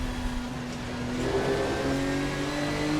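RSS Porsche GT3 race car in Assetto Corsa at Interlagos, its engine note rising steadily as it powers out of a corner, a loud continuous drone with climbing pitch and no talk.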